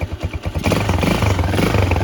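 A Shineray Intruder motorcycle with 12,000 km on it and a slightly deeper exhaust idles steadily up close, a low throbbing rumble with a slight rise in loudness partway through.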